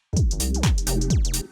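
Tight, sharp clap sample layered over a deep kick in a dry, effect-free deep minimal house beat, with several crisp hits in quick rhythm, loud and close alongside booming low kicks.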